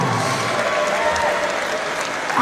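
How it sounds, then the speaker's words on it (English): Boxing event crowd applauding both fighters after a four-round bout ahead of the decision, a short steady wash of clapping with faint crowd murmur. "can we please have a big round of applause"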